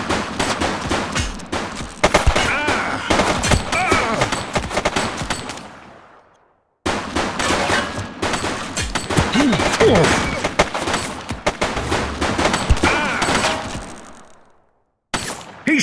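Gunfire in The Precinct, a police video game, rattles in dense rapid volleys with sharp, loud, close shots. The firing breaks off briefly midway, then resumes, with shouting voices mixed in.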